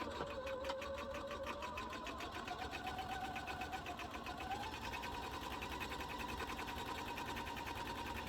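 A sewing machine runs steadily, stitching memory bear pieces with right sides together, its whirring motor and rapid needle ticks continuous and close throughout with no talk.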